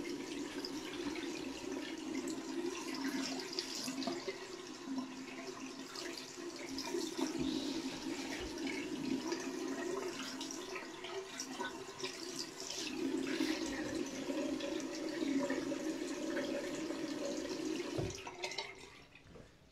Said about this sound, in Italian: Adesso ci facciamo un altro tuffo di acqua ghiacciata.